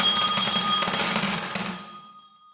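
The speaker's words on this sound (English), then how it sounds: "Calling you, please answer your phone." A phone rings mid-call, with a steady electronic tone repeating for about two seconds, then fading out, heard alone without voices.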